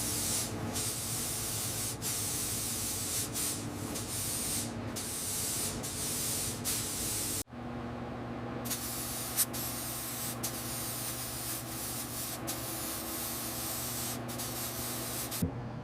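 A spray gun lays warm cream ivory paint onto the body of a 1928 Hispano-Suiza H6C with a loud, close, continuous hiss. It breaks off briefly once, then resumes with a few faint clicks.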